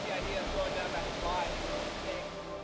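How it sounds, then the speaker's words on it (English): Great Falls roars with a steady broadband rush of cascading rapids and 20-foot waterfalls, dense and continuous, with a voice narrating over the water. "The falls consist of cascading rapids and several 20-foot waterfalls"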